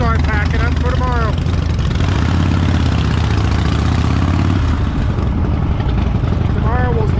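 Steady, loud drone of a Harley-Davidson motorcycle engine on the ride home from Sturgis, with a voice talking over it near the start and again at the end.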